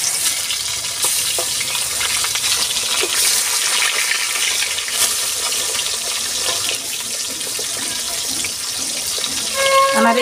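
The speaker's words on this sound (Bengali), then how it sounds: "আমার তেলটা গরম হয়ে গেছে, আমি মাছটা দিয়ে দিচ্ছি।" Koi fish fry in hot oil in a wok, giving a loud, continuous crackling sizzle close by that holds steady for the whole stretch, with no talking.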